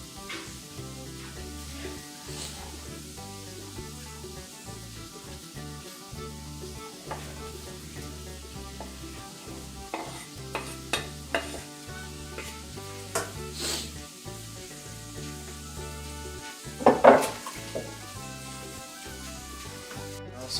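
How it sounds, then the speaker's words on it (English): Sausage and onions sizzle in a pan with a constant close frying hiss, while music plays underneath and a few louder clatters and stirring sounds come near the end. "So I'm gonna add this to my sausage and onions that I got cooking over here."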